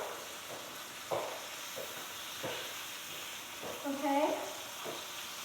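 Steak fries in a hot pan with a steady, close sizzle that runs throughout, broken by a few soft clicks and a brief louder burst near the end. A voice speaks a single quiet word.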